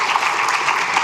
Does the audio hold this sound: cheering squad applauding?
yes